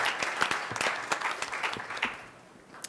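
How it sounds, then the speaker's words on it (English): A forum audience gives a warm round of applause, moderately distant clapping with scattered sharper claps, fading near the end. "let's give Amanda a warm round of applause"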